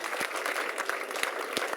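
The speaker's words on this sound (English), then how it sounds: "Round of applause, ladies and gentlemen." Brief audience applause at a junior national singles final, steady clapping from a modest crowd, close and even throughout.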